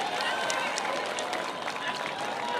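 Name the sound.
crowd applauding Njoroge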